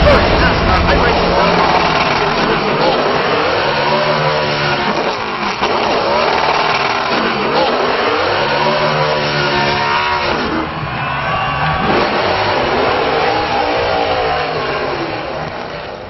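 Race car engines in a sim racing game at Chicagoland Speedway, a loud sustained high-revving whine that rises and falls with shifts, with a commentator talking over it throughout.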